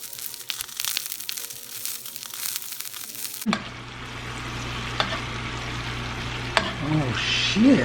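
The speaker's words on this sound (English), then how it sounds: "Got some sear action going." Meat searing in a pan, a steady close sizzle and frying hiss that starts abruptly partway through and continues loud with occasional pops and scraping, preceded by other kitchen noise.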